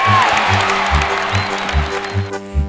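Crowd cheering and clapping for a toy steam train scene, a lively burst of applause and cheers heard under rhythmic background music.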